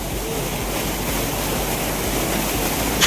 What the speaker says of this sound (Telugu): చూసారు కదా వాటర్ స్పీడ్ ఎలా ఉందా?